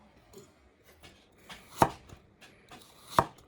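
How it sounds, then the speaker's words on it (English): A kitchen knife slices through vegetables on a cutting board in a push-forward motion, with soft quiet strokes and two louder crisp chops landing on the board, close and without talk. "Correct cutting motion. Let the front edge touch the veggie first."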